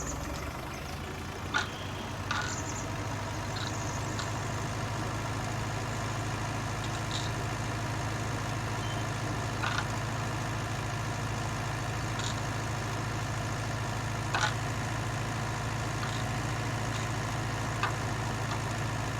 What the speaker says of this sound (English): Just make this tractor pull hard coming up this bit of an hill, but coping well.